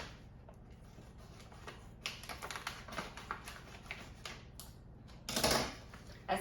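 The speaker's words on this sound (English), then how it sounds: "So I'm going to go ahead and cut the bag with the oxygen absorbers in it open." Scissors snipping open a plastic bag holding oxygen absorbers, a run of quiet crisp clicks and rustles followed by a louder crinkling burst of plastic near the end.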